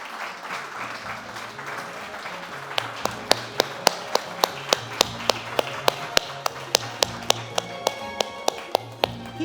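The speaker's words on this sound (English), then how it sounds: "Keep the applause going for these feasting hands." An audience claps at a food award ceremony in Jamaica, with steady applause underneath and one pair of hands beating sharp, evenly spaced claps close to the microphone, alongside a low hum and little speech.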